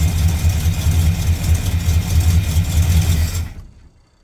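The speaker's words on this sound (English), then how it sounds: "when we give it gas and the power circuit kicks in, she stumbles." Carbureted engine of a 1967 Dodge Dart running rough when given gas, a loud, steady, low engine drone with uneven pulses that cuts off near the end.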